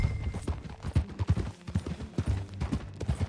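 Horse hooves clip-clopping in Red Dead Redemption 2, a brisk irregular run of hollow thuds at close range that breaks briefly midway, with no talk.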